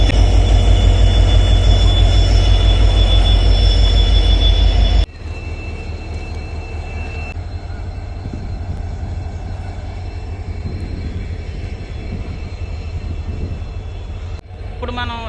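A Rameswaram–Tambaram Express led by a WDP 4D diesel locomotive, a loud steady rumble of the engine and rolling stock at Rameswaram station that drops abruptly to a lower continuous drone, with a faint squeal near the end and speech mixed in.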